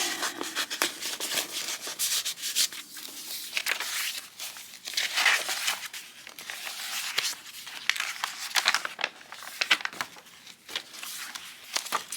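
Sheets of reproduction old writing paper are handled and turned over during a journal flip-through, giving a steady run of close rustling, rubbing and crinkling with brief sharper crackles and no talk.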